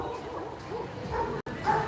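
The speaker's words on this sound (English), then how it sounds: "Oh, they're barking at me." Beach dogs on a Mauritius beach bark and yip close by in a quick burst of short, sharp calls, with a slight whine between them.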